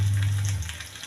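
Shallots frying in hot coconut oil, a brief steady hiss and sizzle with a low hum underneath.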